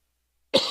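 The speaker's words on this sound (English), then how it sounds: "I'm coughing too much." A single sharp cough from a person at a talk bursts in after silence, close and loud, with a short rasping tail.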